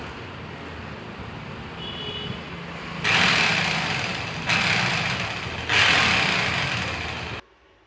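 An electric 5 kg demolition chipping hammer with a gear or armature fault runs in three loud bursts of harsh whirring noise, each lasting about a second or two, against a quieter background hum before cutting off.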